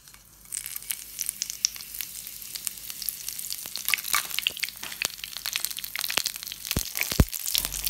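Curry leaves and dried red chillies frying in coconut oil, a steady crackling sizzle with sharp pops and spits that builds after a quiet start, close and alone without talk.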